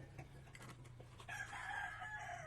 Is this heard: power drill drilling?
no